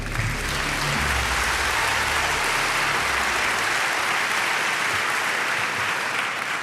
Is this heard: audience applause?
yes